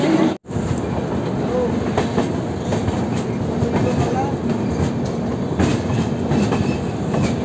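Passenger train pulling out of Moradabad station in India, a steady close rumble of wagons and wheels on rails with faint clicks, continuous throughout apart from one brief dropout near the start.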